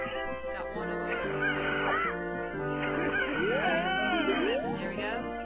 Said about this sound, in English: Catch the chickens.